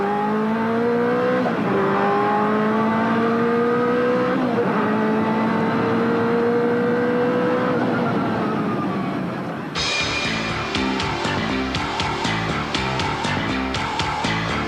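1995 BPR GT race cars accelerate out of the final hairpin at Jerez onto the start-finish straight, engines loud and close, climbing through gear changes before a second, raspier car takes over with a buzzing roar.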